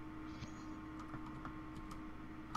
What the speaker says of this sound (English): Ah, I love typing in numbers into text boxes.